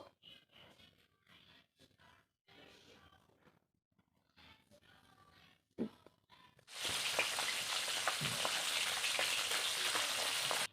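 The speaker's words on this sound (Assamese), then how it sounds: "কেৰাহীটো গৰম হোৱাত তেল দি মাছৰ মূৰ বহাই দিলোঁ। এতিয়া অলপ ৰঙচুৱাকৈ আমি ভাজিব লাগিব।" Quiet speech gives way to a loud, steady hiss and crackle of fish heads frying in hot oil in a wok, close up and continuous.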